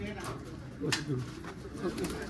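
A black pigeon of the Kali Chiri type gives low, soft cooing calls in a few short bursts, close to the microphone over a steady background murmur.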